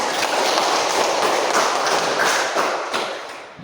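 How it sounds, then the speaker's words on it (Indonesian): A classroom group in an Indonesian micro-teaching lesson claps for a student, a dense burst of many hands that holds steady and then tapers off at the end. "Kita beri aplaus kepada adik."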